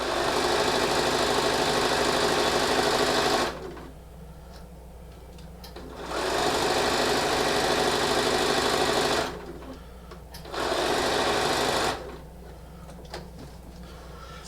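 Sewing machine fitted with a walking foot sewing a bias-cut quilt wedge for a tree skirt, running in three loud steady bursts separated by quiet pauses with faint handling noise.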